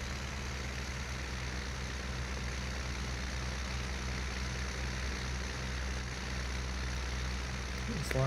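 A tractor engine in the Farming Simulator 19 video game drones steadily with a constant low rumble and hum throughout, loud and unchanging, with a slight shift near the end.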